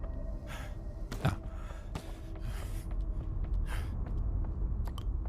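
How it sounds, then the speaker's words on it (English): A character in the horror game In Sound Mind pants with a series of breathy, rhythmic gasps and exhales, close and moderately loud over a low ambient background. "His panting noises are very odd."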